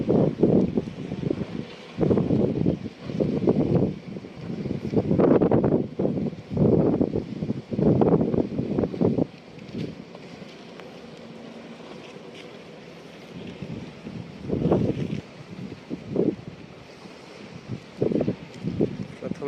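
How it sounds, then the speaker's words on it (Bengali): Waves on the Padma River slapping against a slow-moving fishing boat, heavy rhythmic thuds and rushing water close by, mixed with strong wind buffeting and a brief quieter lull midway. "ঢেউয়ে নৌকায় প্রচুর বাড়ি দিচ্ছে।"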